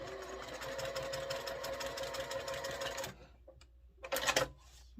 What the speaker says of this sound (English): let me finish sewing this one then